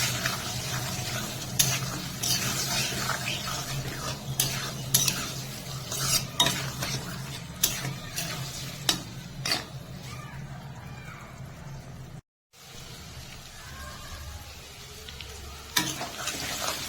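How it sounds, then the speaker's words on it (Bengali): Mutton chusta frying with spices in a pan, a steady sizzle under repeated scraping and clinking stirs of a metal spoon, with one short silent break near the end. "মশলার সাথে মটন চুস্তা ভালোভাবে কষিয়ে নেব।"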